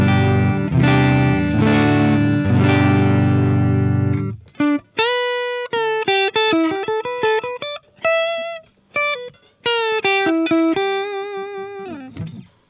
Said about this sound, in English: So today I'm playing through a Marshall SV20H, it's a plexi style Marshall